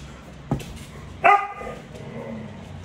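A pet dog barks indoors at home: a short sharp bark, then a louder, longer bark with a yelping tone, both close by, followed by quiet room sound.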